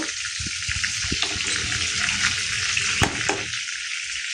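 Cumin seeds crackle and sizzle loudly in hot oil and melted butter for Kolhapuri pav bhaji, a steady dense hiss with a few stirring scrapes and clinks throughout, close up and without speech.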